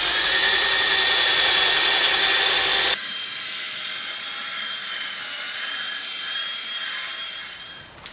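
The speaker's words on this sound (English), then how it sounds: "high speed, you don't want to burn through the plastic, so be careful, but fairly high speed" High-speed polishing drill buffing a plastic car headlight lens, a loud steady whine that shifts abruptly in pitch partway through, then holds and tapers at the end, close and alone without speech.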